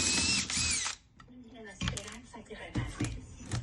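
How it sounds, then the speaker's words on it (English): A power drill bores out the lock on a phone display rack, a loud grinding burst opening the clip, then quieter scraping and clattering handling noises with brief drill spurts. "Drill until it falls out."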